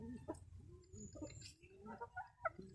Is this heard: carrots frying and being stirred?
no